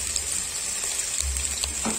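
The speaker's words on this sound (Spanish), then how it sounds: "después que se dora un poquito, pues la cebollita, ponemos el tomate" Onion, tomato and chili frying in a pot for bean soup with beef bone, a steady close sizzle and crackle with a few stirring knocks, no talk.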